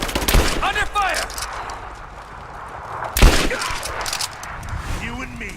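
Gunfire in the Tomb Raider video game comes in rapid bursts of automatic shots and a louder blast, with shouted voices over the shooting.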